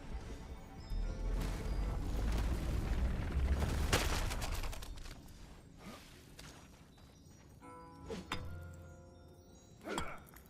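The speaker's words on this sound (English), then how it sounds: "Explosion, please." An explosion in the video game RuneScape: Dragonwilds bursts as a heavy rumbling blast followed by crashing debris thuds, with a second, smaller impact later as the rumble fades, and no voices.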